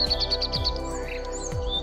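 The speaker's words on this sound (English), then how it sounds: "You can hear bird singing, water flowing sounds, noises of vehicles," Birds chirping in a quick repeated series of bright high notes, then scattered calls, fairly close, over a low steady background hum.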